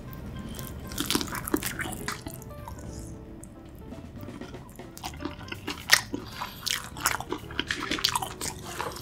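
Close-up biting and chewing of seasoned fried chicken in a mukbang, wet squishy crunches and sticky mouth sounds in irregular bursts, loud and intimate with no talking.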